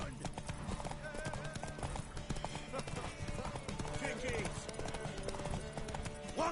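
Horse hooves clip-clop steadily on hard ground in the video game The Witcher, with a horse neighing and people talking over the trotting throughout.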